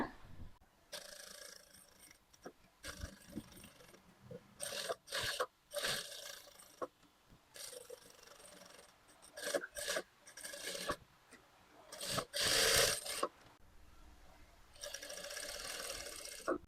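A sewing machine stitches the front piece of a boat-neck blouse in short, quiet, uneven runs of rasping whir, separated by brief pauses, with no talking.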